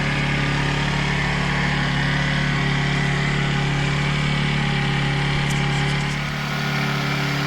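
A Generac 1200-watt portable inverter generator hums at a steady, even pitch, running continuously and close by with a constant mechanical drone and no speech.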